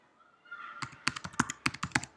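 Keys clack on a computer keyboard in a quick irregular burst of about eight crisp, close strokes, starting after a faint hiss and continuing to the end.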